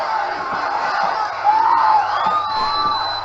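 A rally crowd cheers and whoops in a large space, a sustained wall of voices with individual shouts and whistles rising and swelling midway, heard from a distance.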